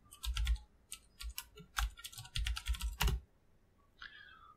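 Fingers type on a computer keyboard in quick, uneven bursts of crisp clicking keystrokes, close and clear, followed by a short tonal blip near the end.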